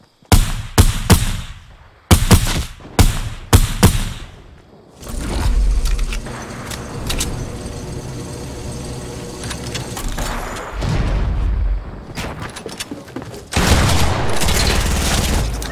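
Video game gunfire in a Fortnite Team Rumble match: several bursts of close, sharp shots at the start, then a long stretch of sustained, dense firing and rumbling action with no voices.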